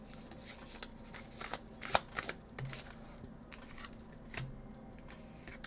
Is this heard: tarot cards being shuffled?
yes